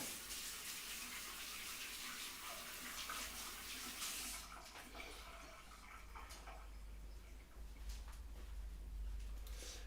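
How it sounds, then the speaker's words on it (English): Hands are washed clean of chalk dust under a running tap, heard as a steady, close rush of water with splashing changes partway through and no talking. "I wash my hands."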